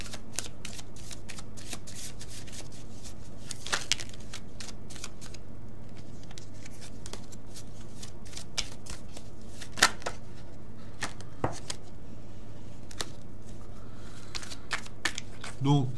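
Tarot cards being shuffled by hand, repeated soft riffling and snapping bursts scattered across the stretch, with someone speaking French over them.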